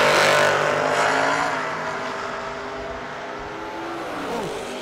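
Drag race cars, a Camaro against a New Jersey-based Javelin, accelerating hard off the line with a loud roaring engine rush that fades slightly as they pull away, with no talk over it.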